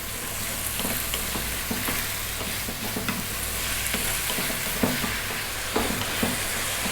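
Minced beef and potatoes sizzle steadily in a hot pan while a spoon stirs and scrapes in irregular strokes, close and continuous, with no talking.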